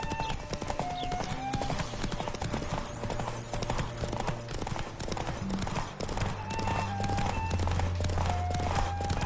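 Hooves clatter in a fast, continuous galloping rhythm from a horse in The Witcher 3 video game, mixed with game sound effects and occasional tonal beeps, with voices briefly audible in the background.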